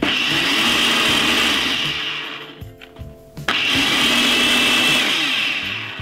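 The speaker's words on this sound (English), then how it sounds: "Gonna be blending this about 3 to 4 minutes." A blender whirs loudly through ginger and pineapple for a smoothie, its motor briefly dropping out mid-run before surging back to full speed.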